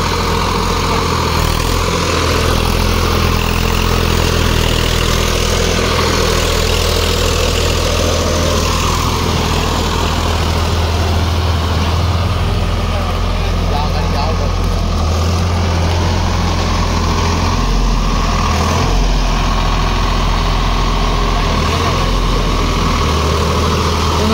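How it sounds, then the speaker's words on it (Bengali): A Swaraj 855 FE 4WD tractor pulling a 72-blade Maschio multispeed rotavator in a field gives a loud, steady low engine drone with churning blade noise, continuous and close throughout with no pauses. "দেখতে পাচ্ছেন মেসিও মাল্টিস্পিড রটারের সঙ্গে চলছে।"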